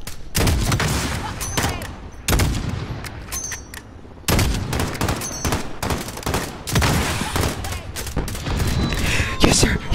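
Rapid bursts of video game gunfire, loud dense volleys and automatic fire in several clusters separated by short quiet gaps, with people talking faintly underneath.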